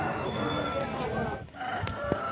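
Roosters at a village poultry market in Nallapadu crow and cluck amid a busy background murmur, with one clear crow rising near the end.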